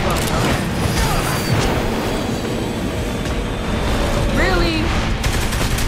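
Gunfire in Saints Row: The Third crackles in dense bursts over a loud, busy game mix, with a voice talking through it.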